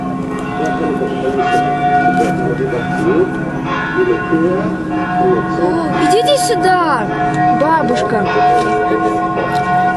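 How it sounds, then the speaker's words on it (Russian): Clock bells ring out from a temple tower at night in Mini-Israel, a sustained metallic chime with pitched strikes sounding through the whole stretch while people talk nearby. "и тут бьют часы"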